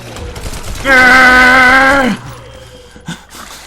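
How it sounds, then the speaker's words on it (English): A Tommy Gun fires in The Sinking City video game, a loud close burst of about a second of rapid continuous gunfire, followed by quieter clicks and thuds. "It's Tommy Gun time."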